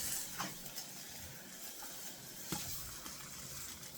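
Barbecue ribs sizzling and frying on a grill, a steady close hiss with a few soft scraping knocks as the meat is moved and turned.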